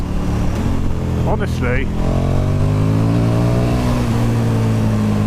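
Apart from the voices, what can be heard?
KTM 1290 Super Duke R motorcycle accelerating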